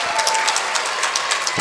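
A crowd at a women's college basketball game, Tufts against Amherst, applauds in a brief burst of dense clapping that stays loud and steady throughout.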